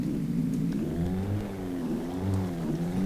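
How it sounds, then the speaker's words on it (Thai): A car engine in the video game Alan Wake revs with rising and falling pitch, steady and fairly loud, with a slight dip midway before climbing again; no voices. "แค่เสียงรถก็กินใจไปแล้วอ่ะ"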